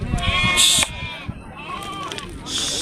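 Sheep bleating at the Kanigiri sheep and goat market, with a few loud close calls and other animals and people talking in the background.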